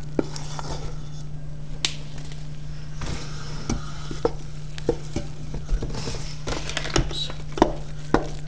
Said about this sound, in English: Hard to hold the camera and mix this at the same time.